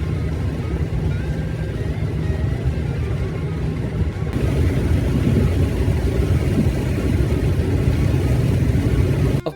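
A car cruising along Route 66 in New Mexico, its steady engine and road rumble filling the cabin, growing a little louder partway through, with no one talking.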